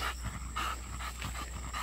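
An exotic bully dog pants in quick, rhythmic breaths at close range after a muddy trail walk, a steady run of short huffs with no voices.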